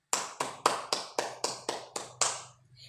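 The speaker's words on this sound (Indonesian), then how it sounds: "Kita beri tepuk tangan untuk kita semua." Eight sharp, evenly spaced claps ring out alone, close and fairly quiet, as a primary school class gives itself a round of applause in an Indonesian lesson.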